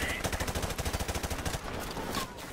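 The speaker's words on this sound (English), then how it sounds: "Where are we getting shot from" Rapid automatic gunfire in a Call of Duty 4 Remastered campaign mission, a fast regular burst of loud shots that thins into scattered cracks and distant firing with no talk.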